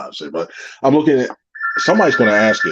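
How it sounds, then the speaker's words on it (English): A telephone rings in a sports talk broadcast, a steady electronic tone sounding under a man's continuous speech near the end. "That's the phone rings now."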